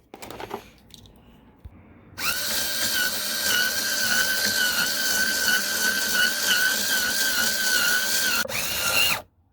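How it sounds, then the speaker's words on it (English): A power drill bores a small hole through a part of a 150cc X-Pro Bali scooter, a loud, steady whine lasting about six seconds before it stops abruptly, with a few faint clicks and handling noises beforehand. "I'll go ahead and drill a little small hole right there."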